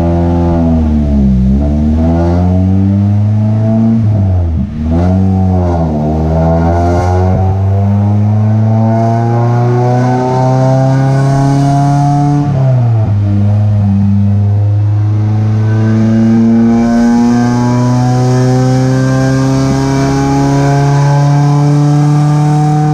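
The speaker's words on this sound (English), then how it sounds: "Let's give her a run through the gears to make sure everything's still sound." A tuned car engine revs hard through the gears, each climb in pitch breaking off at a shift before rising again, loud and close with no talk.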